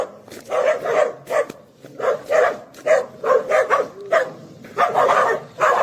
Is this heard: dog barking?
yes